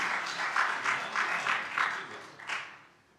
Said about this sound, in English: So applause for this moment and for Mr. Ponta's speech.